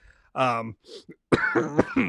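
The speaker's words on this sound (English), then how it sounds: "Apologize for coughing directly into the mic." A close, loud cough and throat clearing right at the microphone, followed by someone speaking.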